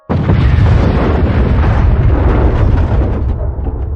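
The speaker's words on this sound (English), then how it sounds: "all of a sudden there was this thunderous boom." A thunderous boom fills the space at a bar, a loud sustained roar of blast and rumble that hits suddenly and slowly tails off over several seconds.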